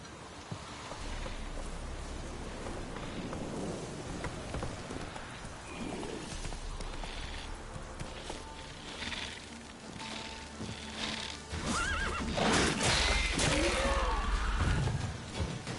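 Roach, Geralt's horse in The Witcher 3, runs through a rainy game world, its hoofbeats soft and blurred beneath steady rain and ambient noise that swells louder near the end.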